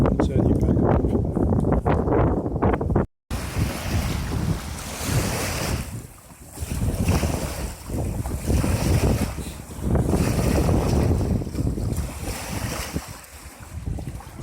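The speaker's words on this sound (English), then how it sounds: "That's what happens when the wind blows." Strong wind roars across the microphone while waves surge and slap against a boat in rough water, a loud continuous wash that swells and eases in gusts, with one brief cut near the start.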